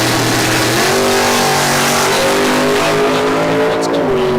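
Race cars at a racetrack during a spring time trial give a loud, steady engine roar close by, with pitch slowly shifting as they drive. No one speaks.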